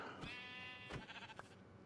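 A single video-game sheep bleat, wavering and fairly clear, rising then trailing off over about a second, with faint background hum.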